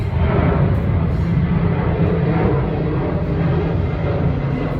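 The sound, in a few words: airplane flying overhead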